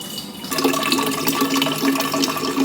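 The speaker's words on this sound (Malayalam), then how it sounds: "വെള്ളം ഒന്ന് നിറച്ച് നോക്കുക എങ്ങനെയുണ്ട്" Water pours steadily into a container from a tap, a continuous splashing rush that starts after a brief quieter moment and stays loud and close, with no talking.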